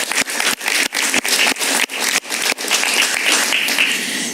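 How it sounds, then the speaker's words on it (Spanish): Studio audience of a Spanish-language talk show applauding, a loud, dense wash of clapping punctuated by short breaks, heard alone without talk. "Un aplauso para ella"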